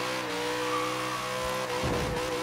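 A stock V8 in a Chevy Nova in Forza Horizon 3 revs with a steady, droning harmonic tone. It holds even, then swells louder near the end, with some tire noise, and no talk.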